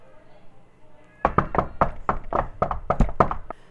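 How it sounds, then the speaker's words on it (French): Knocking on a door of a warm house after crossing a snowstorm, about a dozen firm, rapid knocks in quick irregular succession, close and loud, starting after a short quiet stretch. "Il décide de frapper à la porte."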